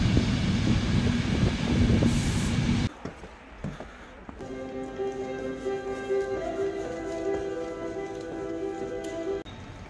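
Steady rumble of a Dutch NS Intercity train in motion, with a sustained electric whine rising partway through and a brief quieter stretch near the start.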